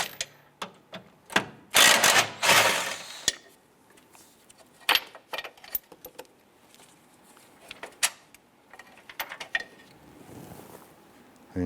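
Ratchet with a 16mm socket and extension loosening and removing bolts on a 2008-2013 Nissan Rogue, with sharp clicking bursts, a dense run of ratcheting early, then scattered clicks and knocks, close by.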